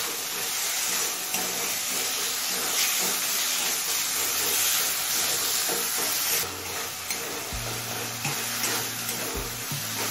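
Chopped large tomato added to spice masala being fried on high flame, a continuous loud sizzling hiss with occasional stirring scrapes and a low hum near the end, no talk.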